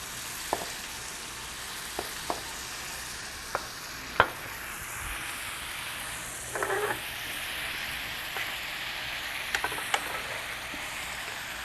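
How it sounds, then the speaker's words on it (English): Rice warming in a pan on a cooking show gives off a steady, soft frying sizzle with light stirring and a few small clicks and scrapes of a utensil, heard alone without talk. "Got to get that sizzle."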